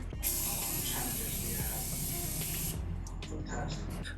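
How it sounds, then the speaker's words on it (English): A steady hiss of Morphe Continuous Mist setting spray for about two and a half seconds, close and fairly loud, trailing off into quiet room sound. "I'm just gonna finish up with my Morphe Continuous Mist setting spray"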